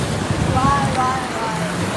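Sea waves washing in at night high tide on Boracay's white sand beach at Station 1, water reaching the shoreline restaurants; a steady surf wash with wind, and voices and faint tones in the background.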